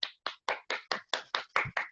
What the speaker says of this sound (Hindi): ध्यान से सुने और जबरदस्त तालियों से स्वागत करें